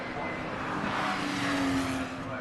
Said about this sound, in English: Well clear, past Andy Toon in car number 4.